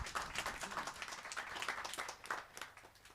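Audience applause welcoming a guest to the stage at a documentary screening event, a steady wash of many hands clapping at moderate distance, continuous and fairly faint throughout.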